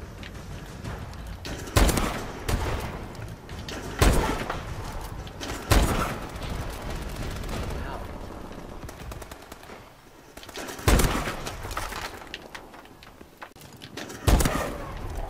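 Automatic gunfire in Call of Duty: Advanced Warfare, continuous rattling bursts punctuated by several loud heavy shots spaced a few seconds apart, close and dense throughout.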